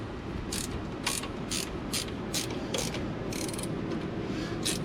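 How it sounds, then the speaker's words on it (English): A 3/4-inch ratchet wrench turns a bolt on the lower shock of a 2009 Ram 1500 2WD, giving a series of about ten crisp, evenly spaced clicking bursts, close and clear, with no talking. "So I have a 3/4 ratchet wrench, right?"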